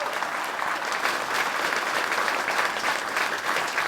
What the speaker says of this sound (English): Please give a huge round of applause to those guys.